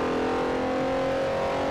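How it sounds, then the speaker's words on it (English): Loud car engines from the racing video game Forza Motorsport 4, a steady, sustained droning roar with no talk. "Also, Motorsports 4 engine sounds are loud."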